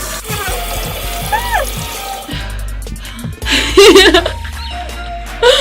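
Water splashes and runs while false individual lashes are drenched and rinsed off, close and wet, with bursts of running water, some laughter and a louder gush near the end.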